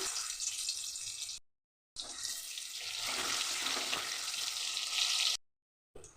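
Boiled potato pieces coated in salt and turmeric frying in oil, a steady broad hiss of sizzling interrupted by two short silent gaps, no talking.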